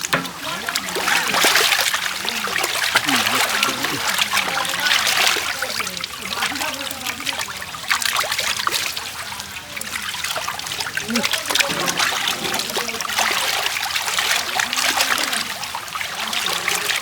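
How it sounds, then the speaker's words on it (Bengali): Running water splashes and trickles steadily while pangas fish is washed by hand, a continuous near stream with small splatters, with faint voices in the background. "সুন্দর সুন্দর করে মাছটা আমরা এখন ধুয়ে নেবো"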